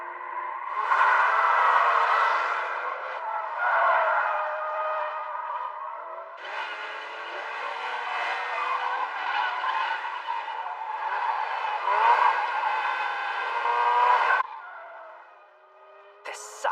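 Anime racing car speeding through mountain hairpin turns, its engine a loud, sustained whining roar that rises and falls in pitch over long stretches before cutting off near the end.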